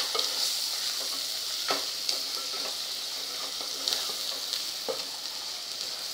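Turmeric is stir-fried in a pan for a Maharashtrian chana rice dish, giving a steady close sizzle broken by several sharp scraping strokes of the spoon, with no talking.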